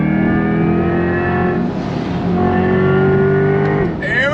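A 2024 Chevrolet Corvette C8 E-Ray accelerates under throttle, its engine drone loud and close, holding steady before climbing in pitch near the end.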